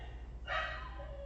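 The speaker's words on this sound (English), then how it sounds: "the dog is just losing her mind" A female dog barks once, a short, distant-sounding bark over a low steady background hum.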